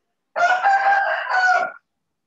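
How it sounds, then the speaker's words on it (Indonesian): A neighbour's rooster crowing once, a single close, loud cock-a-doodle-doo lasting about a second and a half with clear pitch rises, heard alone without talk. "Ayam tetangga, Pak."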